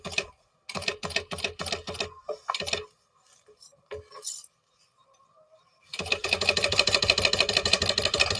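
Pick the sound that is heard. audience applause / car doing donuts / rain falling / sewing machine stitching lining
sewing machine stitching lining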